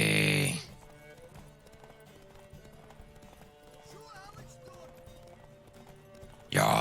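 A horse gallops in The Witcher 3 on Nintendo Switch, steady rhythmic hoofbeats pounding at an even pace beneath game sound, with a voice breaking in loudly at the start and end.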